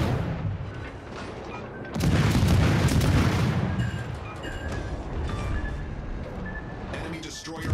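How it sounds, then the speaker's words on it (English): Naval gunfire and explosions as an enemy destroyer is sunk in the console warship game World of Warships Legends: heavy booms and rumbling blasts swell loudly, with game announcer voices and ambient battle noise around them. "Enemy destroyer blown out."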